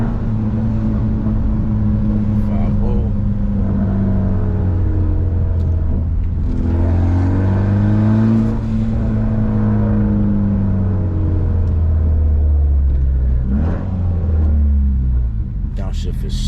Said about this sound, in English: They hear the Evo